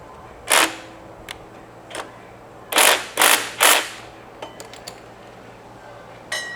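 A 13 mm wrench tightens the loose intake on a VW dune buggy engine, giving several sharp metallic clicks and ratchety bursts, some clustered in quick runs, over a low quiet background hum.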